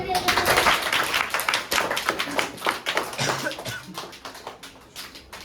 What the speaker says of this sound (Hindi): ताली बजाओ सर।